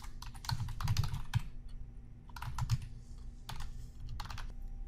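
Keys clatter on a computer keyboard as a username and password are entered at a login screen, close and crisp in quick bursts of taps separated by short pauses.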